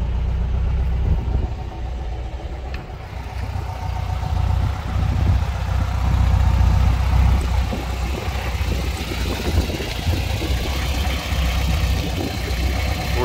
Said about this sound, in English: Four-cylinder Boxster motor, four-speed.